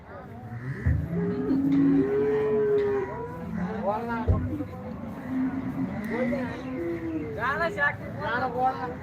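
An HF cow at a cattle market in Loni gives several loud, drawn-out moos nearby, with people talking over and between the calls.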